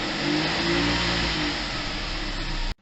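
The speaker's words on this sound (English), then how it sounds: "Typical TSI 3-cylinder sound." A Volkswagen Polo 1.0 TSI three-cylinder engine revs loudly and continuously with a throaty, buzzing drone, close up, then cuts off abruptly at the end.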